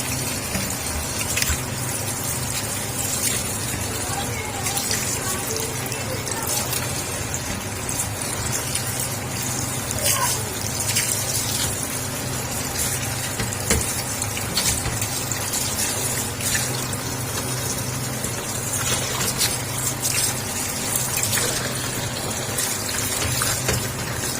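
Bitter gourds are washed and lifted out of a basin of water by hand, with continuous soft sloshing and trickling at a low, even level and no talk.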